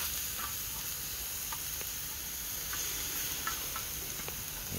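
Grass carp and peppers stir frying on a Firedisc cooker outdoors, a constant broad sizzle with occasional small ticks and crackles popping through, even and unbroken, no voices.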